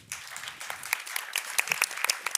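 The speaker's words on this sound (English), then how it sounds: "let's keep the applause coming" An audience at a talk on young people's lifestyle choices breaks into applause, a short burst of scattered claps at moderate distance with no voices over it.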